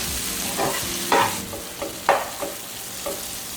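Onions frying in a kadai hiss steadily up close while a spoon stirs them in a handful of scraping, clattering strokes.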